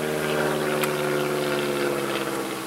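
A light propeller airplane drones steadily overhead during a beekeeping outing, its engine hum even and continuous from start to finish with no voices.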